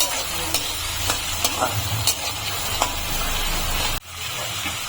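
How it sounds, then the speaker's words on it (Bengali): Potatoes frying in a pan for sabudana pulao or upma, stirred steadily with a utensil: continuous close sizzle with irregular scraping strokes, loud and alone, cutting off abruptly near the end before the sizzle resumes more softly. "আলুটা দিয়ে এখন একটু নেড়ে নেবো।"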